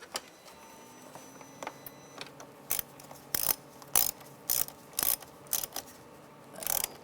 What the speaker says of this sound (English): install the screws that go right here and on the other side, and tighten them down